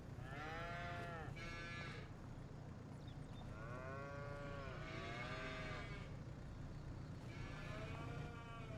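Several cows low in Farming Simulator 25 on the Irish Ladyhill farm, with four or five separate drawn-out moos spread across the clip, moderately distant, over a steady low background hum.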